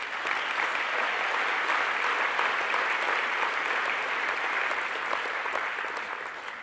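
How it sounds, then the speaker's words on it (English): An auditorium audience at an astronomy general assembly gives a sustained round of applause, a thick, even clatter of many hands that tapers off slightly near the end. "Let's give them a separate round of applause"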